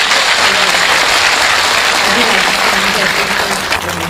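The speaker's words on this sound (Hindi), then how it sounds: "जनाबे संपत सरल माइक पर जोरदार तालियों से उनका इस्तकबाल की।" An audience at a mushaira poetry event breaks into loud, sustained applause, with dense clapping throughout and a voice faintly present underneath.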